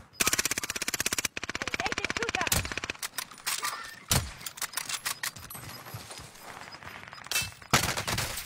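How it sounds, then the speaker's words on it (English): Rapid automatic gunfire in a shooter video game, loud sustained bursts up front followed by scattered single shots and shorter volleys, with a player talking over the action. "Engaging shooter. Stop shooting me."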